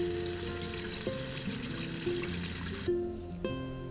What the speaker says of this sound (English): fill up the pot with some water, but not too much because we don't want our taro to boil.